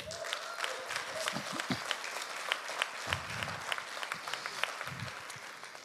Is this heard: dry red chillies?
no